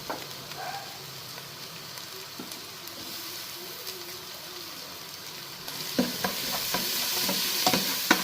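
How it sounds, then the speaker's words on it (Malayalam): Onion, crushed ginger, garlic and green chilies frying in a pan, a soft steady sizzle with occasional stirring scrapes that grows louder and busier toward the end. "ഇതൊന്ന് ഫ്രൈ ആയി വരുമ്പോഴത്തേക്ക്"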